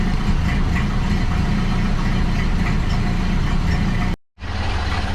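A 1931 Ford Model A engine idles steadily at close range, a loud continuous low rumble that cuts out abruptly for a split second near the end before resuming.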